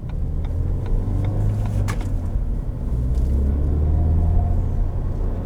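A 2019 Ford Fiesta ST driving on the road, heard from inside as a steady, loud low engine and road rumble with slight swells in the engine note.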